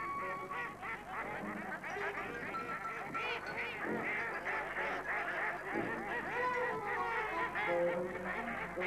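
Ducks give repeated honking quacks to gather their ducklings, a busy overlapping chorus of nearby calls at moderate level with no talking.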